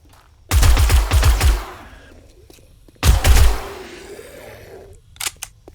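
Rifle gunfire in the 7 Days to Die video game: a loud, quick burst of several shots, a pause, then a second burst, each trailing off into echo, with faint clicks at the end.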